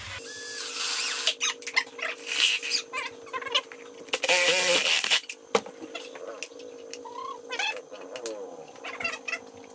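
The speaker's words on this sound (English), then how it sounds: "we're going to drill a hole in them" A drill bores holes into small plastic skulls in short, high whining bursts separated by quiet gaps, with scraping and handling noises between runs.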